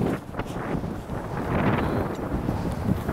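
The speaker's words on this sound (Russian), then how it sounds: "Там ветер безумный." Strong cold wind by the ocean in Gloucester, Massachusetts, buffets the microphone in steady low roaring gusts, filling the whole clip with rumbling noise.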